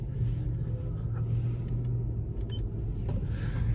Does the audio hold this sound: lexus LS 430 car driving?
yes